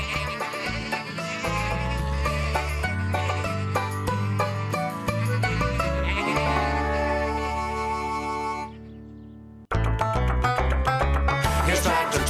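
A cartoon sheep with paint on her wool bleats on a children's farm, the wavering cries mixed into loud, busy background music that cuts out briefly near the end.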